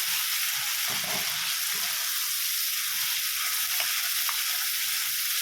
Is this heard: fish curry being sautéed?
yes